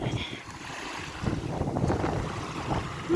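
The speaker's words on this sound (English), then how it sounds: "It's nice and breezy out today." Steady breezy wind buffets the microphone at a sandy beach by the water's edge, a continuous rushing roar with faint surf underneath and no clear talking.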